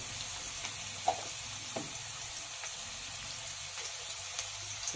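Steady sizzling of potatoes frying in hot oil, with a few soft pops and faint stirring clicks, close by and without voices.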